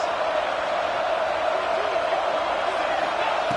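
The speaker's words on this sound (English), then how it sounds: "here comes the crowd noise" A stadium crowd roars in a steady, dense wash during an Oregon vs Washington football two-point conversion attempt, with a commentator speaking over it.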